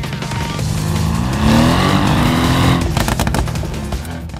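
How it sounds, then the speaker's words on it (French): A Mercedes-AMG GT R coupé roars under hard acceleration, its engine note rising loud and close through the revs, then breaking into rapid crackles and pops as the throttle lifts. "avec une sonorité du moteur tout simplement irrésistible"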